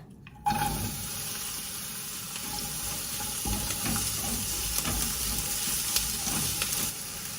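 Half an onion cut into half-moons dropped into hot oil in a frying pan, a sudden onset followed by a steady, close sizzling hiss that continues throughout.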